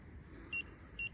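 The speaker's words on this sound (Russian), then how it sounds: "Снова датчик зашкаливает и снова прекращается." A ghost-hunting sensor beeping as it maxes out, giving two short, high electronic beeps about half a second apart over a low, steady background rumble.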